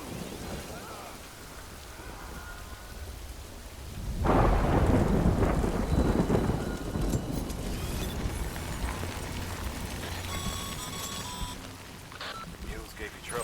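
Steady rain hisses throughout a Death Stranding game scene, with a heavy roll of thunder booming in at about four seconds and rumbling on. Faint electronic tones and a voice speaking appear over the storm later on.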